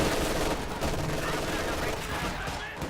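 Dense machine gun fire in Company of Heroes 2, a rapid, unbroken clatter of gunfire that stays loud and close for the whole stretch, with faint battle noise mixed underneath.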